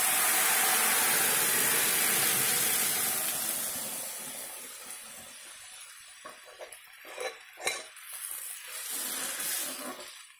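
A loud hiss of chana dal hitting hot oil tempering, strong at first and fading into scattered crackles and pops.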